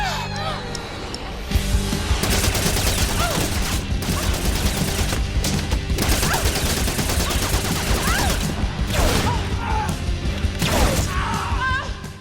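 Rapid gunfire crackles through a chaotic action-film gunfight from Shoot 'Em Up, dense volleys and crashes running almost the whole time over a loud music bed, with a quieter stretch at the start.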